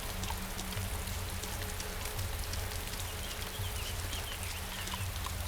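Steady rainfall in the DayZ video game patters continuously at low volume, with a dense even hiss of drops and no voices.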